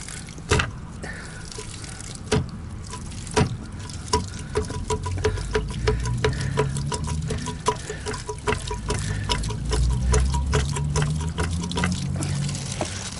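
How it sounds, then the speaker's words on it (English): Gray water patters and trickles steadily as it drains from an RV tank with a frozen valve, with sharp drips and knocks scattered throughout, no talking. "I'll let this drain out as much as possible"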